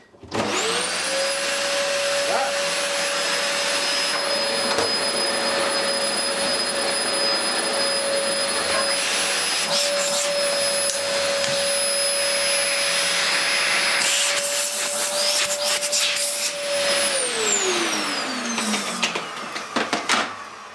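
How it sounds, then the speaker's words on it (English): A Dyson DC04 vacuum cleaner starts up and runs with a loud, steady, high-pitched motor whine and a rushing airflow hiss for about seventeen seconds, then winds down after it is switched off. "And suction-wise, it is perfectly fine"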